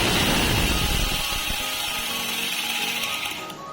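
An electric angle grinder fitted with a chainsaw attachment runs loud and high-pitched at full speed, a continuous whining roar that fades slightly and cuts off near the end.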